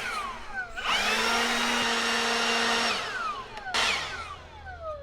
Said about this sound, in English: I had a leaf blower out here.